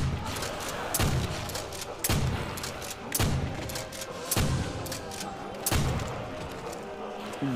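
A double-barrel shotgun firing in Call of Duty: World at War's zombie map Nacht der Untoten, with loud booming blasts about once a second in a regular rhythm over constant battle noise.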